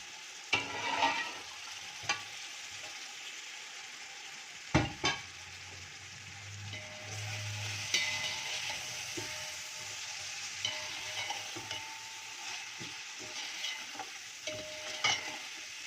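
Chicken pieces frying in a pot for yakhni pulao, a steady broadband sizzle with sharp scraping stir strokes and clanks breaking through now and then, close and moderately loud, no talking.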